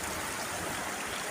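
River water flows steadily in a broad, continuous wash with no gaps, close by and at moderate level, with no voices over it.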